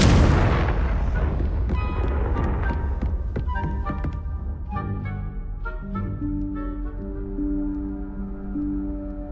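A Confringo fire spell explodes in Hogwarts Legacy: a loud, close burst at the start that rolls off into a long decaying rumble, while tonal game music rings on underneath.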